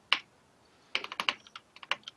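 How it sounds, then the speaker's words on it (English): Fast typing on a computer keyboard: a single tap, a pause, then a rapid irregular burst of crisp key clicks, fairly close and with no talking over it. "Somebody's typing like mad."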